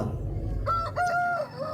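A rooster at a market for fighting cocks gives one short, close crow over a busy background murmur.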